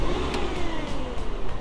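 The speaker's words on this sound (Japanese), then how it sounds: "エンジン音が違いますね。" A Porsche Macan SUV's engine runs close by just after starting, with a smooth, fairly quiet mid-pitched hum and slight revving swells over a short stretch.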